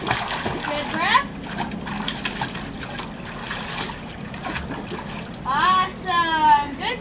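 Child swimming in a pool with splashing strokes and water sloshing at close range, coming in uneven bursts, while an adult speaks encouragingly over it.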